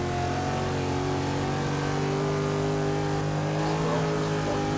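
Race car engines in the video game Forza 6 during a Class B race with a 1964 Impala, a continuous loud roar of several engines revving close together while catching a pack of cars.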